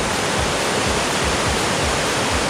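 A waterfall on the Rivière des Galets gives off a steady, dense roar of rushing water. The sound stays even and unbroken throughout, with no voices.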